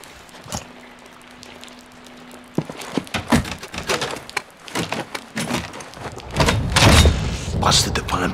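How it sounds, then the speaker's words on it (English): A door is pried open with a rope tied to a fan blade in Call of Duty Modern Warfare 2. Heavy thuds and scraping knocks follow a quiet hum, and voices talk over the clatter. "Tie off the blade with the rope and pry open a door."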